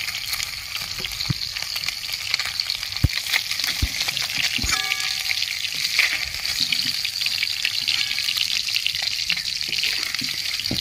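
Small mourola fish frying in hot oil in a pan, giving a steady bright sizzle throughout with a few soft knocks and clinks of utensils, close and continuous.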